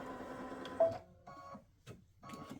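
A machine embroiders a turkey-and-football applique block in a hoop, its motor running in short whirring, mechanical stretches that stop and restart, fairly quiet and close, with no voices.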